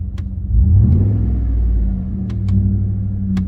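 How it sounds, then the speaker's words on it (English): A close, loud engine of a 2007–2013 GM Sierra truck fitted with a Banks Pedal Monster revs up, rumbles, then settles into a heavy idle, with a few sharp clicks. "you can hear the motor"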